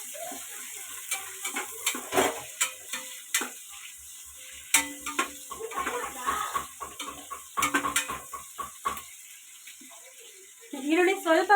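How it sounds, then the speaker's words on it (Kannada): Onions frying in a pan for chicken biryani, with intermittent scraping and stirring clatter over a soft sizzle, close and moderately loud, with a voice heard briefly. "ನೋಡಿ ಈರುಳ್ಳಿ ಹಾಕ್ಬಿಟ್ಟು ಇವಾಗ ಫ್ರೈ ಮಾಡ್ಕೊತಾ ಇದ್ದೀನಿ ನಾನು."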